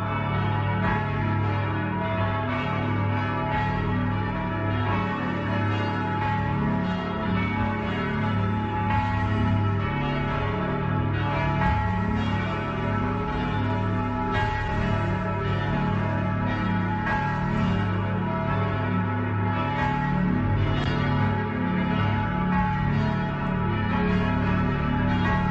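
Large church bells of Moudon in the canton of Vaud, among the biggest bells in the canton, pealing continuously and loudly with rich overlapping tones and no talk.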